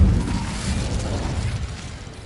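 A fire spell goes off in a Harry Potter video game, a loud, full rumbling burst of flame that roars steadily and then eases off slightly, heard alone.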